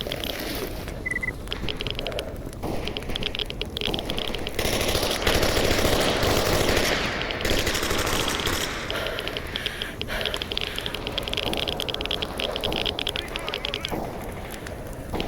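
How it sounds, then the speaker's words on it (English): Firefight in the video game Stalker Anthology, with a dense, continuous rattle of gunfire and a chaotic clatter of weapons mixed with voices. "It sounds like there's still a firefight going on outside."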